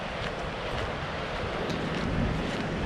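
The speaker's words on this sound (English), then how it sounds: "The waves just breaking on everything." Ocean waves break over the rocks at Playa Zapotillal, a Costa Rica beach, making a continuous close rush of surf mixed with wind noise on the microphone.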